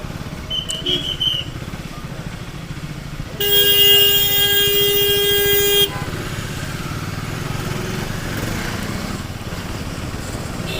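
A KTM Duke 390 motorcycle on a road ride, its engine droning steadily with wind noise, while a loud vehicle horn blares for about two seconds in the middle of the passage.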